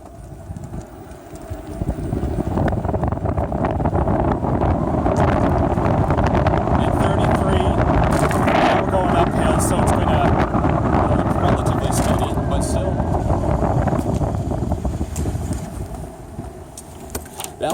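A Daymak Tokyo 48v 500w electric scooter accelerates from standstill to 32, its motor hum steady under strong, continuous wind rush that builds after the first couple of seconds and holds loud and close to the end.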